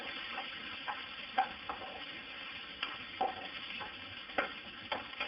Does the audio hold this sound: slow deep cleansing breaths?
no